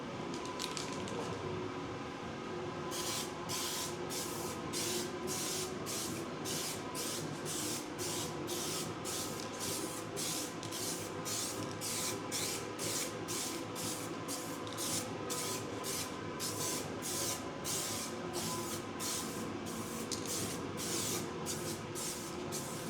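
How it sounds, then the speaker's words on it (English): Continuous hiss of an aerosol spray paint can coating a motorcycle fairing, steady and close, with rapid pulsing bursts running throughout; no talking. "let's get started on the spray"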